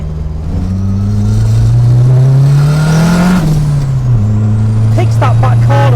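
A Vauxhall Viva VXR with a swapped engine revs hard up the range, a loud, close, steady drone that climbs in pitch, dips, then holds before settling; no one speaks.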